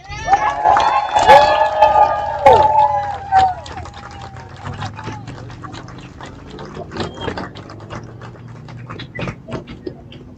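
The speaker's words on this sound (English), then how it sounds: "And I want to give everyone a sound applause for Michael." An outdoor rally crowd outside a Salt Lake City federal courthouse bursts into cheering, whoops and clapping, loud at first and then thinning into scattered claps and shouts, with voices among the crowd.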